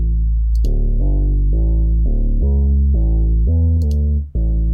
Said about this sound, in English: what I do is thrash them with the blood overdrive here, distortion, but then cut the high end